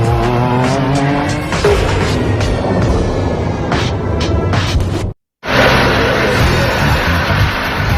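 GT race cars roar at full throttle around the Adelaide street circuit during a round of the Australian GT Championship, a loud continuous engine blare with tire squeal, cut by a brief dropout before the racing noise resumes.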